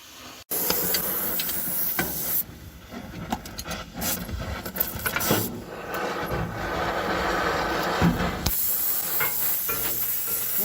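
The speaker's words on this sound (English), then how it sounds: "Use up some oxygen and acetylene." An oxy-acetylene torch hisses steadily while heating metal, a broad continuous rushing sound with brief pauses and a few clicks and knocks.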